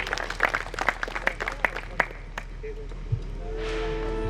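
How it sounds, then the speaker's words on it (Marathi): Applause from the audience at a Diwali evening music concert, a short burst of scattered sharp claps that fades after about two seconds into a faint hum and soft instrumental tones. "सूरज वड्राईवरून तिथे जाऊन शिकत असे तर त्याच्यासाठी जोरदार टाळ्या परत"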